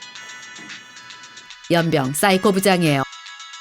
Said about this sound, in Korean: 그때 전화가 울리기 시작해요.